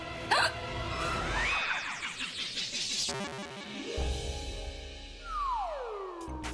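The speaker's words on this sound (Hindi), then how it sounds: "इतना हिचकी लोगी तो सारे पेशेंट जाग जाएंगे।" Hiccups in a hospital ward, several breathy catches spread across the stretch amid dramatic swooping sound effects and music, with no clear talk.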